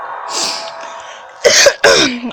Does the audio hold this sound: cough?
yes